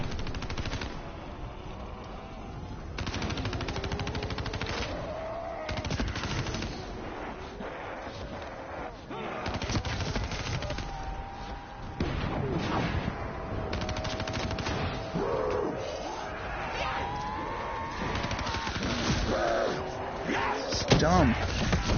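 Call of Duty: Black Ops 3 combat with dense, continuous rapid gunfire and explosive bursts running throughout, loud and layered with game effects and voices talking over the action.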